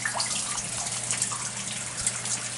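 Water runs from the spout of the Fountain of Youth in St. Augustine, a steady close trickle and splash with small drips, continuous and fairly quiet.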